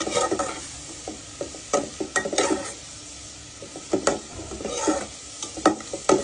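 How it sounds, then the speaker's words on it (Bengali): Onion and garlic frying in oil for a taro-root dish, stirred with quick, irregular spatula scrapes and knocks against the pan over a continuous close sizzle. "তেলের মধ্যে পেঁয়াজ রসুন দিয়ে ভালো করে ভেজে নিচ্ছি"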